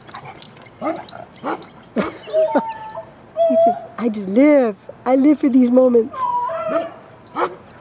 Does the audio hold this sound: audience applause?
no